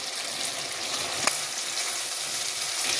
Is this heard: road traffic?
no